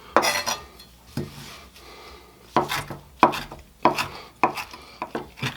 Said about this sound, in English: I'm going to chop this up with my sharp knife and get it into, again, fine little flakes of fresh parsley